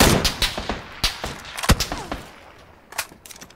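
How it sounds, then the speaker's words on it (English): Enemy gunfire in PUBG, a scattered string of sharp shots of mixed loudness, some close and punchy, others fainter and farther off, in short bursts. "He's shooting at me, but he can't hit me."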